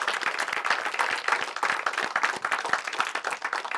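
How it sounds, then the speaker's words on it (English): An audience at a talk on job creation breaks into dense, sustained applause, many hands clapping together at a steady, moderate level. "they deserve a big round of applause"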